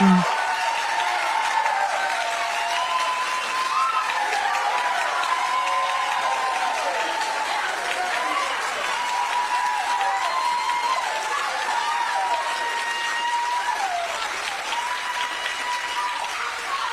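An audience at a town hall in deep-red Nebraska breaks into sustained applause, a dense, even wash of clapping with crowd voices mixed in that holds steady for the full stretch.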